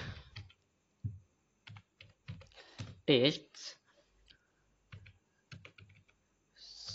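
A sentence being typed on a computer keyboard, bursts of close key taps separated by pauses, with someone speaking between and over them.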